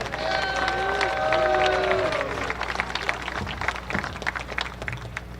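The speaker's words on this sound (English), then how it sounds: "A loud round of applause for Keegan Hawley" A crowd at a Lewis & Clark college football game against George Fox in Portland applauds during senior recognition, with scattered clapping rising after some tonal sounds and crowd noise early on.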